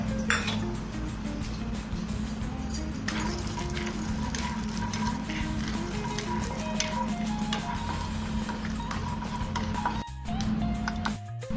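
Peanuts poured into hot oil in a kitchen pan hiss with a steady, dense sizzle, broken by scattered clinks of metal on the pan. The sound stays close and continuous throughout, with no talk.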